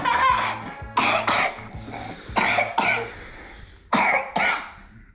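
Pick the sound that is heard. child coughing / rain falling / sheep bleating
child coughing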